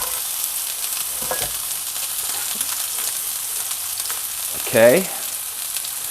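Onions sizzle steadily in a pan as they begin caramelizing, a constant bright hiss at moderate level, with a brief word spoken near the end.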